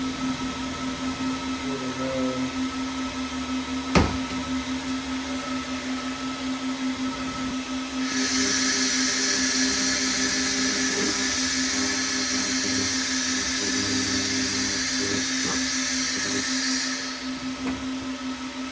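Handheld laser cleaner stripping paint from a steel bike tube, giving a steady bright hiss that starts partway in and holds evenly for about nine seconds over a constant background hum, with one sharp click before it.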